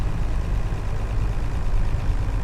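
Engine running at a steady low, rumbling idle, heard close and continuous with no talking.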